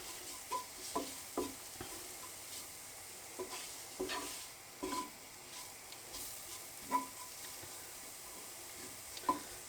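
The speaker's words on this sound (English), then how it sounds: "we just want to cook out the spices for just a couple of moments" Spices sizzle softly in a hot pan for a minced beef and potato curry, interrupted by the scrape and knock of stirring at irregular moments, fairly quiet, with no voices.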